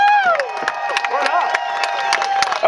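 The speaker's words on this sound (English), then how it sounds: "Give them a round of applause" A crowd at a D1 GP drift exhibition cheers and whoops for the lined-up drivers, loud and close, with scattered claps and shouts over a continuous roar of voices.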